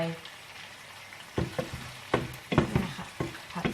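Chicken stir-fried with basil in a pan, giving a soft steady sizzle broken by several scraping stirs that come in uneven bursts, heard close.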